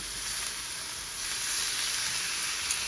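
Citrus-marinated chicken breasts sizzling on a grill as they are flipped, a close, steady hiss of frying that holds for a few seconds with a slight swell midway.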